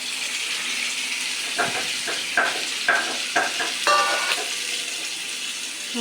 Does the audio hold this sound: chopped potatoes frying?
yes